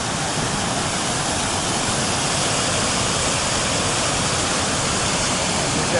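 A waterfall pours into a river along the Appalachian Trail in Virginia, a loud, steady broadband rush of water that fills the whole stretch without pause.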